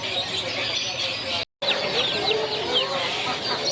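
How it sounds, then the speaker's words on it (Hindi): Hens cluck and chatter steadily with small chirps mixed in, a busy flock heard up close at a bird market in Sadar, Karachi, alongside pigeons, broken by a split-second dropout partway through. "कुकड़ आहिनि।"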